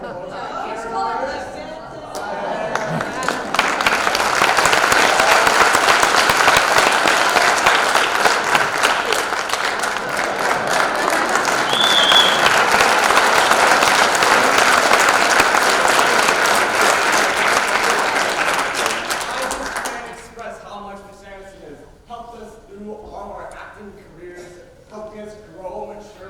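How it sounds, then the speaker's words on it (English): Sustained audience applause after a school fall play, loud and steady for about fifteen seconds before fading, then giving way to scattered voices and chatter in the hall. "One last round of applause."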